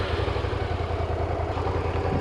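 A Suzuki SV650S V-twin motorcycle engine rumbles steadily with a throbbing, pulsing low note, heard close and loud from the rider's position on a sunny lakeside ride.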